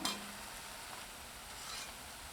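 Mysore bonda frying in hot oil gives off a steady, close sizzle with faint bubbling crackle throughout, and no voices.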